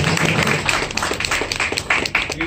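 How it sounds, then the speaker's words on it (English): Wedding guests applaud together in a steady, fairly loud patter of claps that carries on throughout, with no talking over it. "Would you give them a round of applause?"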